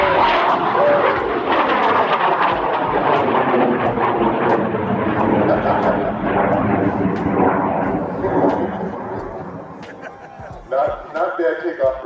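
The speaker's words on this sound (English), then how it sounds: "Not bad takeoff for a 180-pound rocket." A 180-pound high-power rocket lifts off with a loud, sustained roaring rush that fades over several seconds as it climbs away, while people cheer and talk over it.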